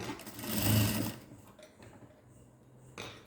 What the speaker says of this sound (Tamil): நான் நிறுத்தி தைக்கிறேன் அதனால தான் வேகமாக தைக்க வேண்டாம் அந்த இடத்துல